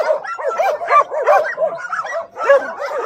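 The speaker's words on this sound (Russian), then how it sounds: "А это белорусская собака." Belarusian laika hunting dogs bark and yip at a kennel, a rapid rhythmic string of close, loud barks with whimpering mixed in.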